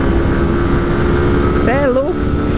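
A 2022 Honda CG 160 Fan motorcycle engine runs loud and close with a steady rough drone, while a rising and falling whistle or vocal sound cuts across it briefly near the end.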